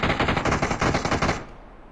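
Rapid automatic gunfire in a battle royale video game, a loud burst of closely spaced shots for over a second that cuts off abruptly into near silence.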